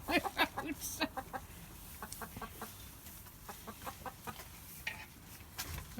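Alarmed hen in a flooded hen house clucking in rapid, agitated bursts, a run of sharp clucks at the start and scattered calls afterwards, fairly faint and close with no talk over it.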